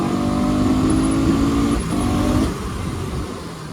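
Bajaj NS 200 motorcycle, 2024 model, riding on city and highway roads, with a steady, loud engine drone and wind noise that eases slightly toward the end.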